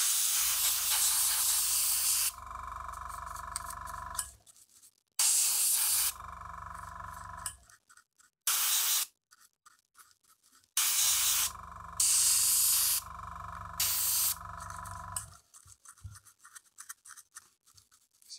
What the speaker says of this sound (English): spray some alcohol on it and then rinse it off with the alcohol that's being sprayed from here